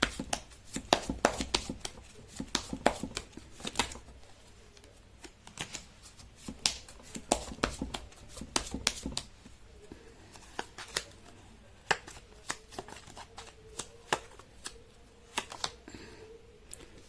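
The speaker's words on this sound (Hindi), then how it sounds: "कर लेती हूँ कार्ड की शफलिंग।" Tarot cards being shuffled by hand, a close series of crisp riffling snaps and soft card slaps in irregular bursts, fairly quiet with no talk over it.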